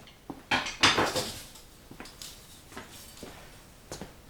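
A Slingerland Super Sound King snare drum is played with a famous drummer's own decades-old wire brushes, giving a few close, crisp swishes and light taps, the strongest near the start, with quieter strokes spaced out afterward.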